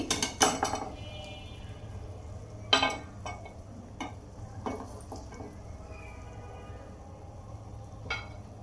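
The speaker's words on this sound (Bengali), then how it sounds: "আমি এখন চুলা থেকে এগুলি উঠিয়ে নিচ্ছি।" Fried gulab jamun are lifted out of a pan on the stove, heard as sporadic metallic clinks and scrapes of a utensil against the pan over a faint steady background hum.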